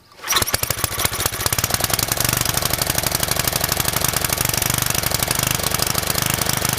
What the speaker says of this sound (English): I'm gonna see if this thing will start. Engine is on, choke is on.